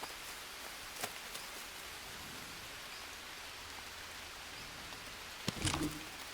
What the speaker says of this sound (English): So it's raining and it's raining hard.